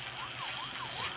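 A police car siren during a chase wails in quick rising and falling sweeps, steady and fairly loud over a low engine rumble, with no talking.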